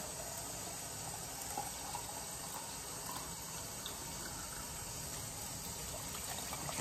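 Water rushes steadily from a tap into a container, about 2.5 cups, a constant broadband hiss with no pauses and no voices.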